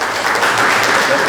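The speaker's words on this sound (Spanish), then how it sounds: "Démosle un fuerte aplauso, por favor." A lecture audience applauds a speaker with steady, dense clapping, loud and continuous throughout a short burst.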